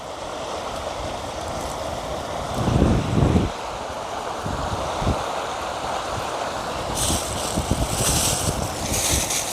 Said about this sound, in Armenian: Քամի է,